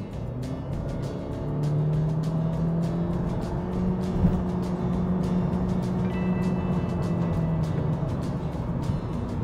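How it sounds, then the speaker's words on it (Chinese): A family car's engine rises in a steady, continuous drone from inside the cabin as the accelerator is pressed to the floor, with smooth rather than abrupt power delivery and no speech. "那我们现在体验油门踏板踩深一点点，一脚油门下"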